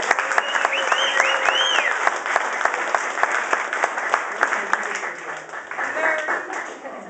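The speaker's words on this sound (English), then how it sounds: "Come on, give me another applause." Audience at a benefit event applauds in a steady, full burst of many hands clapping, with scattered cheers and voices rising through it before the clapping tapers off toward the end.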